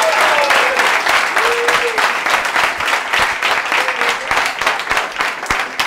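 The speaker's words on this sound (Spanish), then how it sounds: "Un aplauso fuerte para vosotros." Loud, dense audience applause fills a Spanish-language public-speaking conference hall, steady and close throughout with a few faint tonal sounds in the background.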